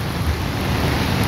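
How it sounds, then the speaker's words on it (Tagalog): Heavy rain drumming on a motorcycle canopy, a loud, dense and continuous roar of drops striking close by, with no voices heard. "Malakas yung ulan."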